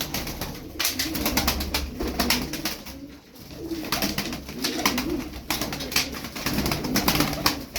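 Tumbler pigeons coo in a loft, soft repeated throaty calls with wing flutters, close and steady with no talk over them.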